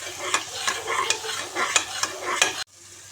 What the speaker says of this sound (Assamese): এতিয়া মই আদা আৰু নহৰু পেষ্টটো ঢালি দিম, আৰু এইখিনিও অকণমান গোন্ধ যাবলৈ দিম ভাজি পেলাই